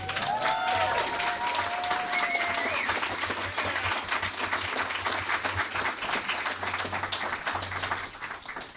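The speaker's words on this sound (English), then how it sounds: "I'd love to hear a resounding round of applause" Audience applause at a community center ribbon cutting ceremony, a dense, steady crowd clapping that holds for several seconds and slowly thins, with faint voices and a brief whistle early on.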